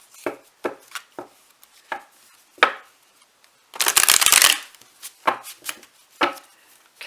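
Tarot cards being shuffled close up, a string of sharp card taps and slaps and then a dense riffling burst in the middle, followed by more scattered taps.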